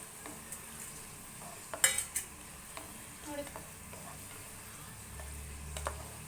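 Semolina being stirred and roasted in a pan for upma gives soft sizzling and scraping, with a few sharp clicks of the spoon against the pan near the start, continuing quietly throughout.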